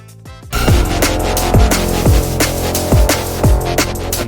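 Unmastered liquid drum and bass track made in FL Studio: a short quiet lead-in, then loud steady breakbeat drums with punchy kicks, deep bass and pad chords playing continuously.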